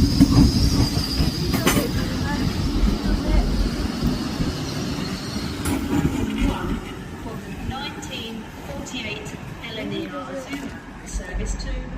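A train passes through Doncaster station with steady rumbling wheel noise and sharp metallic wheel squeals, gradually fading as it moves away, while people talk nearby.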